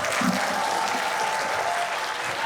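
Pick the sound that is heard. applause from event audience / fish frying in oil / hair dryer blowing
applause from event audience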